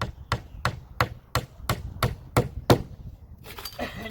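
A hammer drives nails into trim pieces on vinyl siding of a well house, nine sharp evenly spaced knocks in a steady rhythm, close and loud, followed by a brief scuffle of handling noise.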